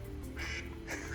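A duck-quack ringtone goes off on a phone during a Generac generator service, two short nasal quacks about half a second apart over a steady low hum.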